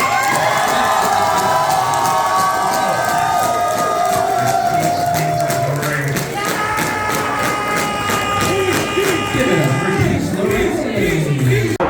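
A crowd cheers and whoops for a drag performer's puppet during a competition show, loud and continuous, with music tones and shouting voices running through the noisy wash of applause.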